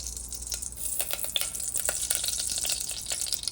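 Ghee heating in a pressure cooker for mushroom pulao, giving a steady close sizzle with light crackling pops throughout, no voices.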